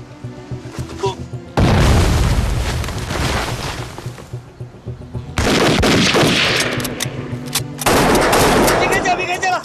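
Gunfire in a Chinese anti-Japanese war film: long, loud bursts of rapid shots and booms in several volleys separated by brief pauses, with shouting voices between them.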